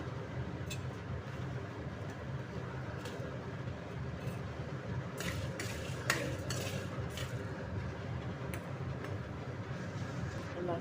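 Ingredients frying gently on low heat, a soft continuous sizzle with scattered clinks and scrapes of stirring, faint and close.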